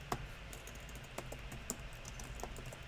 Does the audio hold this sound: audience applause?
no